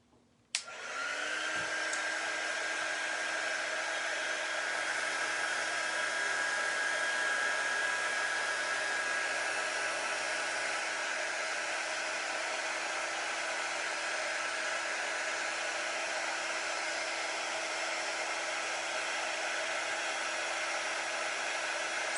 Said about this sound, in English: what I'm going to do first is dry this with our heat dry tool so I don't smudge it